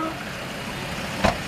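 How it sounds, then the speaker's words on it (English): A car engine catches and settles into a low, steady idle, with a short louder burst near the end and no voices. "That's your car started."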